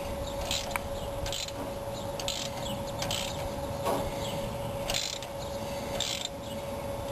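Wrench ratcheting back and forth on a stiff water pump bolt of a 1965 Ford Mustang GT, several short clicking bursts repeating at close range over a steady hum, with no talk.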